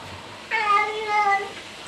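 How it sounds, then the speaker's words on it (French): A cat in a home kitchen gives a single clear, drawn-out meow lasting about a second, close and fairly loud over quiet room tone. "Oh Babidi, qu'est-ce que tu veux mon chat?"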